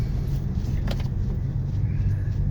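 A car with an automatic transmission runs and drives, its engine a steady low rumble heard from inside, with a faint shift-like change in tone partway through and no talk.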